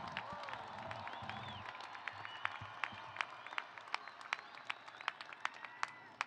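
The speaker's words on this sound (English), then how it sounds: "Oh, come on, you can cheer louder than that. Let's hear some noise." A commencement audience at a CSUN engineering ceremony claps and cheers, a soft, distant-sounding spread of applause with sharper individual claps standing out toward the end.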